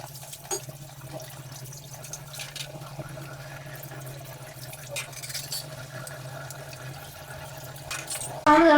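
Dishes being washed by hand under a running tap in a home kitchen, a steady low wash of flowing water with faint clinks and splashes throughout.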